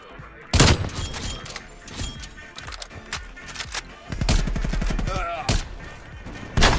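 Shots from the Swiss K31 sniper rifle in Call of Duty Black Ops Cold War ring out as loud, sharp, scattered reports among other gunfire and game effects, with someone talking in between.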